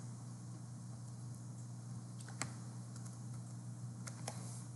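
Faint, irregular keystrokes on a computer keyboard, a few scattered clicks over a steady low hum, with no voices.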